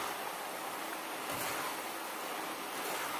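Cassava chips frying in hot oil make a dense, steady roaring sizzle, like surf or rushing water, that fills the whole stretch at an even level with no talk over it.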